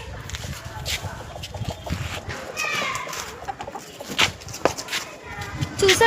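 Chickens raised from cheap chicks cluck and call in short, uneven bursts over a constant noisy outdoor background, with a few sharper cries standing out near the end.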